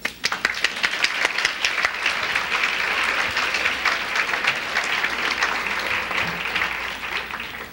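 Warm applause from a seated audience welcoming a guest lecturer at an art talk, steady dense clapping that holds evenly for several seconds without any voices over it.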